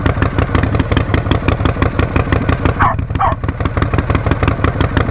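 A 1988 Harley-Davidson Heritage Softail with an Evo motor idles close by in a steady, loping rumble that runs the whole way, with a dog's brief bark or yelp near the middle cutting through.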